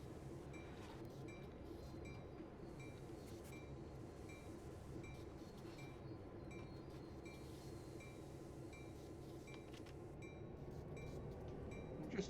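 A train slowing in the Train Sim World 3 simulator on the Oakville Subdivision, Hamilton switcher route: a steady rumble of rolling wheels and rail clatter with faint metallic clinks and brief squeals, continuous and fairly close throughout.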